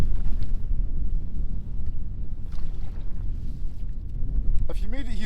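Gusty wind buffets the microphone while canoeing on Loch Shiel, a continuous low rumble with rising and falling gusts, with faint water and paddle sounds and a brief voice near the end.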